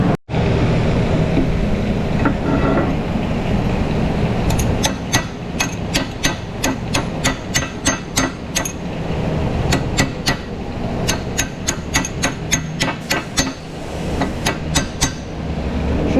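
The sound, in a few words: chisel hammering rust off brake bracket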